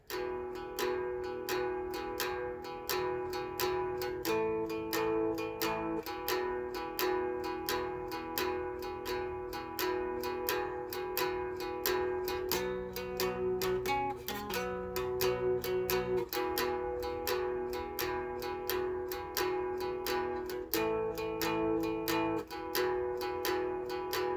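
Steady guitar picking, quick licks ringing across the strings in a continuous rhythmic run, moderately quiet and alone without any talking.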